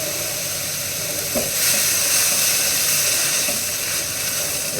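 Poppy seed and coconut paste fries in a pan, giving a loud, continuous close sizzle with faint stirring scrapes.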